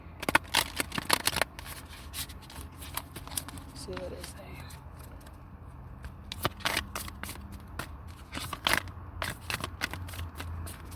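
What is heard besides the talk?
shuffling playing cards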